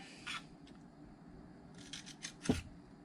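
Components snipped off a circuit board with cutters, giving a few short sharp clicks and scraping rubs, the loudest snap coming late, against quiet room tone.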